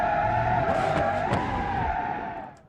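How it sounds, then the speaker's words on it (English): A car in BeamNG Drive, an 80's Soliad Wendover luxury sports car, roars loudly and steadily under nitrous boost while its tires squeal and skid, the sustained screech fading out at the end. "That nitrous is fast."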